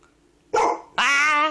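A dog barks twice up close, a short gruff bark followed by a longer, louder drawn-out bark with a howling edge, alone in a quiet room.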